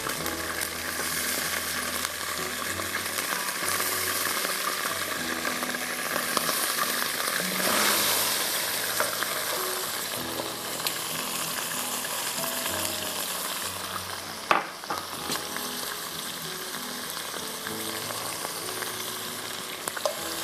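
Sliced onions frying in leftover chicken oil for a restaurant-style ginger chicken, giving a steady, close, crackling sizzle throughout with occasional stirring clatter and a sharp clink near the middle.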